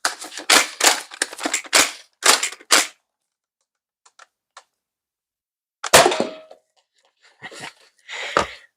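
Modded Nerf Red Rival Takedown blaster firing, a quick volley of sharp pops, then silence broken by faint clicks and a few more isolated loud shots with blowback, close and alone.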